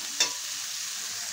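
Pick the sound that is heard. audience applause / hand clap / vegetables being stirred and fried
vegetables being stirred and fried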